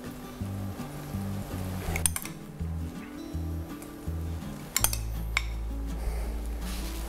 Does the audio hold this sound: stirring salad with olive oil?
yes